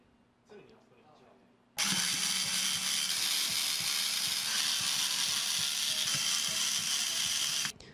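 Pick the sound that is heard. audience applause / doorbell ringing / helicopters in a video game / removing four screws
removing four screws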